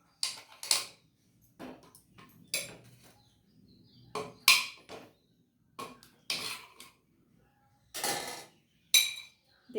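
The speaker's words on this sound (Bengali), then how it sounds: "চামচ দিয়ে কেটে দিচ্ছি আমি, পুরো কাটা হয়ে যাচ্ছে" A spoon knocks and scrapes against a pot while cutting through boiled mutton, giving sharp metallic clinks in scattered bursts separated by short silences, close and fairly loud.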